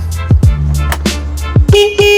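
A CFMOTO UFORCE 1000 side-by-side utility vehicle sounds its horn: several sharp clicks and thumps, then one short, steady, close honk at the end.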